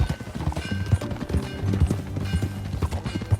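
Horse hooves in the video game Red Dead Redemption 2 clip-clop at a walking pace, a steady rhythm of hollow knocks close by with a light musical backdrop.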